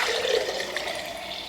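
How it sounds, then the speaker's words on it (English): Homemade oat milk from a Kuvings juicer pours in a continuous, close liquid stream for a moment, steady and fairly loud with no talking. "I'm gonna go ahead and pour it and taste it."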